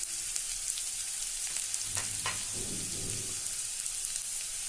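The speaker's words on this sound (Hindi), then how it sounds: "प्याज भुनने के बाद अब हम इसमें डालेंगे चॉप गार्लिक" Chopped garlic frying with browned onions in a pan for kadhi pakora, a continuous soft sizzle with a brief burst of crackle and stirring in the middle, no voices.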